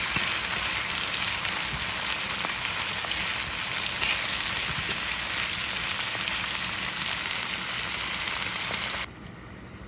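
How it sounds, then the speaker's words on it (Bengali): Ginger and garlic frying with browned onion in oil for a spiced chicken gizzard dish, a dense steady sizzle close by that carries on until it drops away near the end. "এখন আদা রসুনগুলো একটু ভেজে নেব।"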